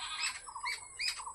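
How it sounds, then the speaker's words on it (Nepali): Baby birds fallen from a nest squawk in short, high repeated calls, three quick bursts close by and faint, with no talking. "कराउँदैछन् चराहरू।"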